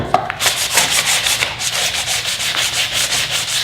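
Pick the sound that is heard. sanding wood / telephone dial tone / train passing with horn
sanding wood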